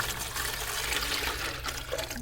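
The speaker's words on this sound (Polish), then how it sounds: "Lejemy do tego naczynia" Water streams steadily into a container, a continuous splashing trickle heard close up over a low background hum.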